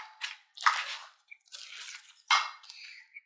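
Sticky slime stretched and pulled apart by hand on a table, giving a few close, wet squelching and crackling bursts separated by short pauses.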